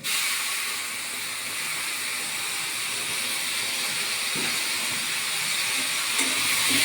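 Whole-spice paste sautéed in hot oil with sugar until the oil separates; a loud, continuous hissing sizzle holds steady throughout with a few faint knocks underneath.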